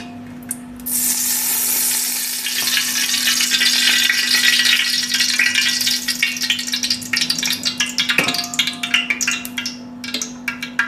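Oil poured into a large heated pot for a spicy crab curry: a loud sizzling, hissing wash that rises quickly, holds steady, then breaks into crackling spatters over a constant low hum.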